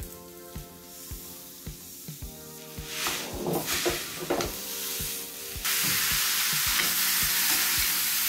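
A khoa, grated coconut and sugar mixture is stirred and roasted in a pan for fried modak filling. Rhythmic spatula scrapes tick over a soft sizzle that swells into a loud, steady hiss partway through.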